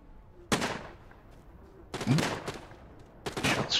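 Three separate bursts of gunfire ring out in The Walking Dead: Saints & Sinners video game, spaced about one and a half seconds apart, each loud and sharp with a short decaying tail.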